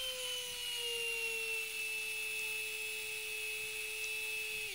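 DC motors driven by a DFRobot L298N motor shield on an Arduino UNO, running at set speeds, give a steady, close electric whine with a fixed tone that dips slightly near the end, alone without talk.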